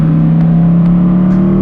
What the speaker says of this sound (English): That exhaust note isn't too bad either.